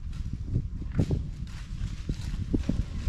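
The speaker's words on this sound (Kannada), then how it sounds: "ನೋಡಿ ಅಲ್ಲೊಂದು ಕುದುರೆ ಬರ್ತಿದೆ" A horse walks at the Kunigal horse farm, a centuries-old stud, its hooves landing in soft, uneven thuds close by over a low outdoor rumble.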